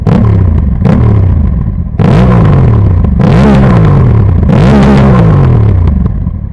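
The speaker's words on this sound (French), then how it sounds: "je voulais vous faire écouter aussi un petit peu le bruit du pot juste à l'arrêt" A Honda Africa Twin Adventure Sports motorcycle exhaust revs hard while stationary in repeated loud bursts, each rising and falling, close by and with no talking.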